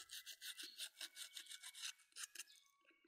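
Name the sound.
sanding a damaged safety shoe sole with sandpaper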